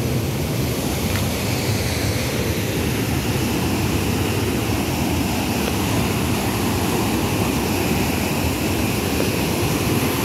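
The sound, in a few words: waterfall at Loreto dam swollen after rain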